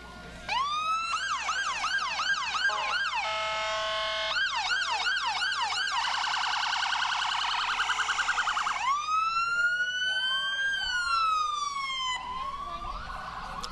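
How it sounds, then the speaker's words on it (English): Several emergency vehicle sirens in a festival parade in Blaine wail and yelp in overlapping cycles, loud and close, shifting between rapid warbles and long rising tones. "Are your kids afraid of the sirens,"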